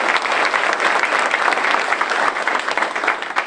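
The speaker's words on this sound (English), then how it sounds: "let's give her a round of applause" An audience at a town hall event with Nick Saban gives a round of applause, dense steady clapping from a large crowd, loud and sustained with no speech.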